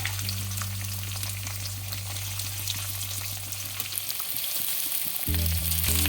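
Garlic and onion fry in hot oil in a pan, with a close, steady sizzle over a low mechanical hum and a few stirring clinks toward the end, and no voices.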